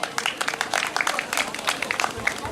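An audience at a school excellence celebration in Montreal applauds for Madame Gamga, a close, dense patter of many hands clapping steadily throughout.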